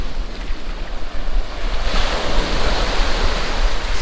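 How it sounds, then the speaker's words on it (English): Ocean surf washing up a sandy beach toward woods along a point, with a steady broadband roar of breaking waves and wind buffeting the microphone, swelling louder partway through and continuing without any voices. "I can see the waves splashing right up into the woods there."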